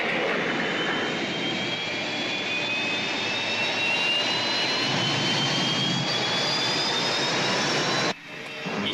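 Rescue spaceship engine departing in a sci-fi scene, a loud jet-like roar with high whining tones slowly rising in pitch, sustained for several seconds before cutting off abruptly near the end.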